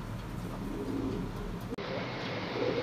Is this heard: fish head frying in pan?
no